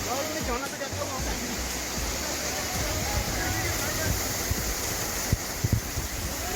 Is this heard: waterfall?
yes